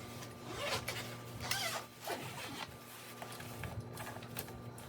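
A zipper on the back of a bedside bassinet is drawn in a few short rasping pulls, close by, with faint handling rustles between strokes and no talking.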